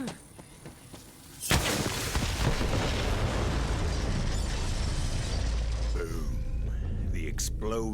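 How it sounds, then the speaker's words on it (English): Set bombs go off in a forest in Borderlands 3 with a sudden loud blast that rolls into a long, rumbling roar and crackle lasting several seconds, with a voice speaking over the tail. "The explosion echoed through the forest"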